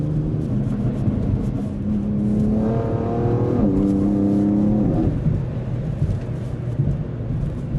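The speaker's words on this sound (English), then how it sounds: "This car really does sound great." A 600-horsepower car engine pulls hard, its rising tone climbing through the gears before settling back into a steady, loud drone heard up close from inside the car.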